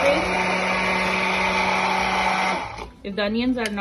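Onions with a little water grinding into a smooth paste in a blender for a curry. A loud, steady motor whine runs for about two and a half seconds, then cuts off and a voice follows.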